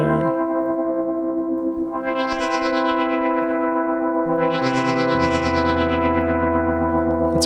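A Moog Matriarch synthesizer drones a swirling stereo patch with feedback. The sustained, thick tone grows louder and washes back and forth, with rising and falling filter sweeps and a lower pitch shift partway through, heard alone.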